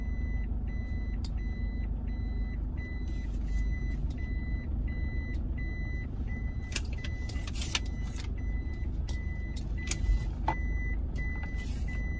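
A car parks at a busy airport with steady reversing beeps sounding at a regular rhythm over a constant engine and traffic rumble, with occasional clicks and clatter nearby.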